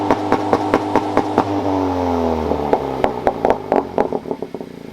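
A 2017-or-later Honda Civic Si engine holds a 3,000 RPM two-step launch limiter, loud and close, with a steady drone broken by rapid sharp popping cuts from the limiter.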